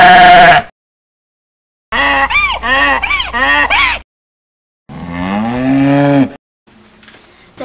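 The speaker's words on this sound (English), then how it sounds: "But Alice got a sheep anyhow." A sheep bleats loudly and close by: first a short cry, then a quick run of four wavering bleats, then a long quavering bleat, trailing off into a faint final call.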